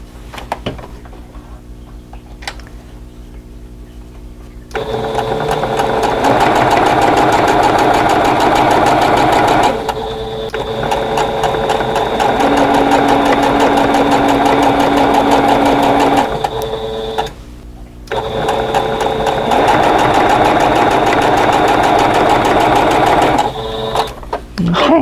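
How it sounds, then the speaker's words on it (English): A sewing machine chain-pieces quilt block triangles onto squares, its steady fast stitching hum running loud and close in long stretches, broken by brief pauses. "I'm going to go ahead and chain piece the rest of these."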